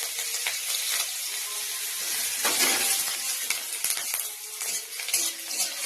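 Cumin, chilli powder, green chilli, garam masala, turmeric and garlic fry in oil in a wok while being stirred, a loud continuous hiss with scraping and clinking of the spoon close by.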